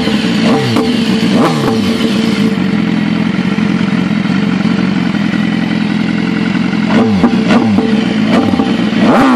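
A BMW S1000RR sport motorcycle on its stock exhaust revs hard up close, loud sharp throttle blips at the start and end around a steady rough idle in between.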